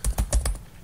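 Quick keystrokes on a computer keyboard, about five crisp clicks in a short burst, close and clear, then a pause.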